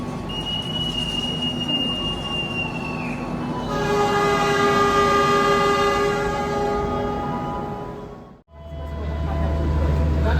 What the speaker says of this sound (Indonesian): Persiapan berangkat kereta api Belambangan Express dari stasiun